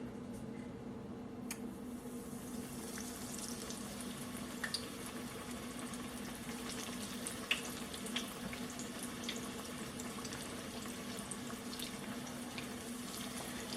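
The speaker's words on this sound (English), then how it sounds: "We're going to have these in the fryer till they come to a nice golden brown." Breaded chicken tenders bubbling in a deep fryer, a faint, steady hiss of oil with a few soft pops and crackles, no voices present.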